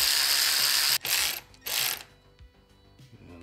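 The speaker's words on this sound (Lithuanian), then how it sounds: "aš susivaržau čia varžtus tada visus" Ratchet wrench tightening bolts on a CFMOTO CF500 engine, two quick bursts of rapid close clicking followed by quieter mechanical ticks and fiddling.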